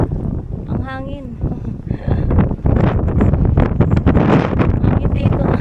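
Strong wind buffets the microphone with loud gusty rumbling, while a person speaks over it.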